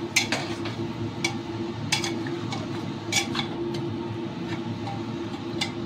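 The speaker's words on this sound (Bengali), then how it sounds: "দেখুন, এবার আমি সুন্দর করে নেড়ে নেড়ে একটু মাংসটা কষে নিচ্ছি।" Mutton and spices being stirred and sautéed in a pot on low flame, with a spoon clinking irregularly against the metal over a steady low cooking hum.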